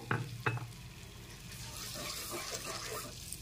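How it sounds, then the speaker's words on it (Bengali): Butter garlic chicken, with a cup of water just added, is stirred in a pan. Two sharp knocks of the utensil open it, followed by steady, moderate sizzling and bubbling with scraping. "এখন একটু ভালো করে নেড়েচেড়ে মিশিয়ে নিচ্ছি"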